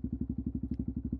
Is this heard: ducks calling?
no